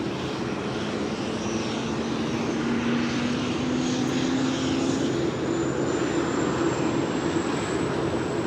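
A Polar Air Cargo Boeing 747-8 freighter at LAX gives a loud, steady engine roar with a sustained tonal whine that carries unbroken throughout.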